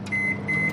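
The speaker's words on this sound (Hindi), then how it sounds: "माइक्रोवेव में रख देंगे।" Two short, steady electronic beeps from a microwave oven sound close by over a low appliance hum.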